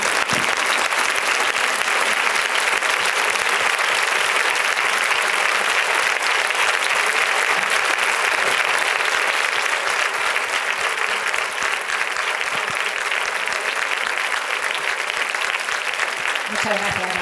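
Sustained audience applause at a literary meeting with author Rosa Montero, a dense steady wash of clapping hands that holds at even strength for the whole stretch, with no voices rising above it.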